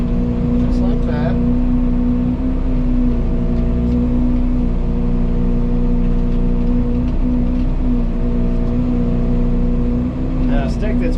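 An excavator with a forestry mulcher shaves stumps off close to the ground, a loud, constant engine drone with steady low hum throughout and small rattling bursts near the start and end.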